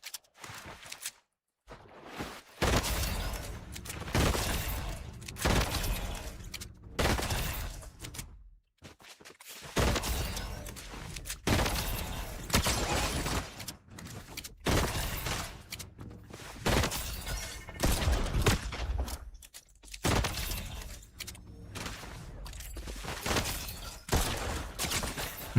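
The Baron's double down pistol fires in a video game, loud rapid bursts of shots and sharp cracks coming in repeated volleys with brief pauses between them, with no talk.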